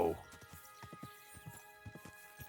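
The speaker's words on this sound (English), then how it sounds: "That was a sick horse jump." Horse hooves clopping in a medieval open-world video game, a quiet even trot of repeated soft thuds, a single snort at the start, no voices.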